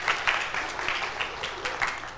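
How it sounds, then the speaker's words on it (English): Audience applause for a volunteer at Brentview: a short, steady patter of many hands clapping in a room, moderately loud and continuous, with no talk over it. "like we can clap for Jason Louie"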